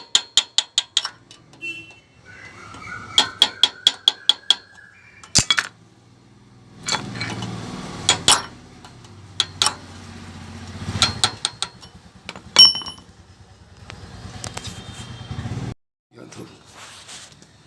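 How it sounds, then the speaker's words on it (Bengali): Bicycle pedal-assist sensor ring being tightened during an electric conversion, with close metallic ratcheting clicks in quick bursts, clattering handling of parts and a few sharp taps, interspersed with quiet gaps. "এবার আমরা চুড়িটাকে টাইট করে দেবো হালকা করে, যেরকম ছিল আগের মতো টাইট করে দেবো।"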